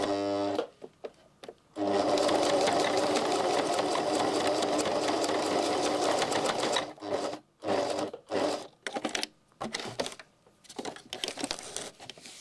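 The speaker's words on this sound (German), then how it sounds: "So, jetzt nähe ich das erstmal zu." A sewing machine stitches a zipper welt pocket on a handbag with thick thread, a long steady whirring run followed by shorter stop-and-start bursts, close and loud.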